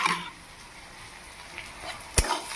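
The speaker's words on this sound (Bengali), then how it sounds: "এই যে পেঁয়াজ কিছুটা ভাজা ভাজা হয়েছে আর একটু ভেজে নিলেই" Onions frying in a pan for a Bengali bottle-gourd and prawn dish make a soft, steady sizzle, with a sharp utensil clink near the end.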